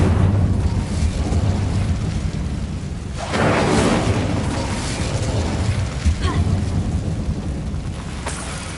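Incendio fire spell cast in Hogwarts Legacy inside an old closed mine: a steady roaring rumble, then a louder whooshing fiery burst erupts near the middle and keeps crackling and booming close up through the end.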